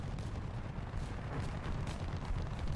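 Artillery barrage in the War Thunder tank game around a BMD-4M, heard as dense, rolling blasts and rumbling impacts piling on one another without pause, fairly distant and muffled.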